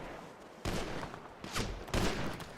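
Gunfire in a GTA roleplay game comes as three sharp bursts of rapid shots at moderate distance, each followed by a short fading tail.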